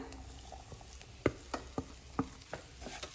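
Mashed peas and spice filling being stirred together in a bowl, a series of soft, sharp spoon clicks and scrapes, roughly half a dozen spaced irregularly over a quiet background.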